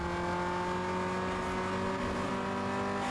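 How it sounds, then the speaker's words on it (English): A racing car engine in Need for Speed Underground 2 drones steadily with a rough, buzzing exhaust note, continuous and fairly close, no voices. "I can hear that horrific exhaust."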